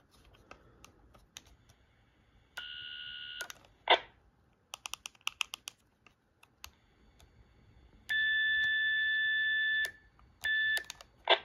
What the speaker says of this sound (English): That's the 1750 hertz tone sounds like.